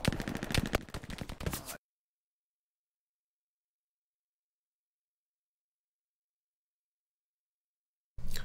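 A video game battle on an artillery squad gives a short, rapid burst of gunfire and artillery, which cuts off into a long silence before a brief return at the end.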